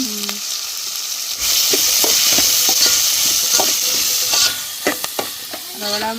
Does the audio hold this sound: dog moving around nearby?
no